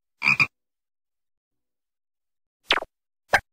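A frog gives a quick double croak up close at the start, then falls silent, with two short sliding sounds near the end.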